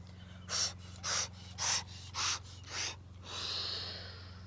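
Forceful rhythmic nasal breathing from a bhastrika yoga exercise, five sharp close bursts at a steady pace, then a longer slower inhalation over a low background hum.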